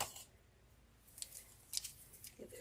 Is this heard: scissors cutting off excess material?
yes